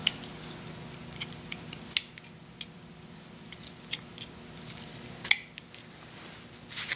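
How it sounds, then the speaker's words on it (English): A knife carves a stop cut into a golf ball and then pops out the chip, giving a string of sharp, close clicks and scraping snicks over quiet room hiss. "taking the knife, making a stop cut, coming back and removing the chip."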